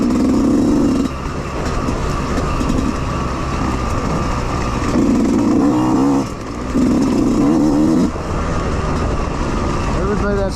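A dirt bike ridden around a hilly motocross track with steep elevation changes, its engine droning steadily up close with repeated rises and dips in revs over constant wind noise.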